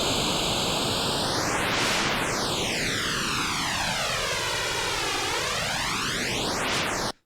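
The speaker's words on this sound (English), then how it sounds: "This is the double tracker." Strymon Dig & Deco double tracker set to a flanging effect on a synthesizer signal: a loud, continuous noise-like wash with sweeping comb-filter notches that dive down and rise back up in a slow jet-like swoosh, with no voices.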